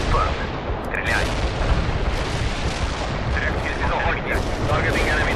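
Artillery pounds away in the video game World in Conflict, a thick, unbroken stream of booming impacts and gunfire, with short bursts of chatter over it.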